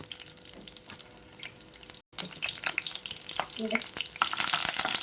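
Dried red chillies and curry leaves fry in about two spoons of hot oil for a pickle tempering, a close, crackling sizzle that grows louder toward the end.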